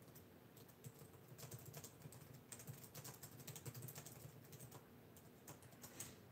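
Quiet, rapid keystrokes on a computer keyboard, tapping in uneven bursts with short pauses, close and soft.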